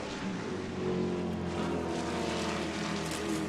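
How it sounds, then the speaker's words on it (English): Loud, steady engine roar with a dense rumbling drone, sustained throughout without pause, from classic racing cars running nearby at Virginia International Raceway. "Oh, beautiful roar of these engines."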